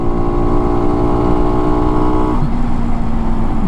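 A 2015 Skyteam Skymax 125 monkey bike runs flat out at full throttle, its small single-cylinder engine droning steadily and loudly up close, with the pitch dropping slightly near the end.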